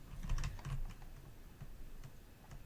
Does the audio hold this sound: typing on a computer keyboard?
yes